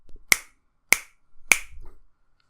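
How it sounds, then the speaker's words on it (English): Three crisp finger snaps ring out alone at an even pace, each sharp and close, with near silence between them. "I'm just going to snap my fingers 3 times."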